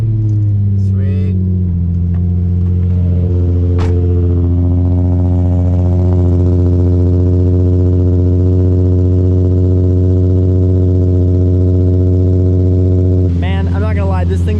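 A Nissan 350Z HR fitted with new intakes and a single-exit exhaust idles loud and close with a steady, deep rumble, with a brief rev-like swell near the end.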